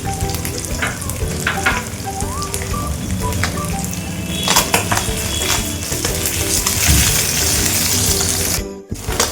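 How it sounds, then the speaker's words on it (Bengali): Small puti fish sizzling hard in hot oil in a pan, a loud, steady crackle with scattered sharp pops and the occasional scrape of a spatula, ending with a brief clatter. "দেখুন বন্ধুরা, মাছটা ভাজা হয়ে গেছে।"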